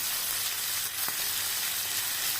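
Semolina pulao with turmeric and salt frying in a pan, a steady close sizzle with a brief soft clink partway through, no voices.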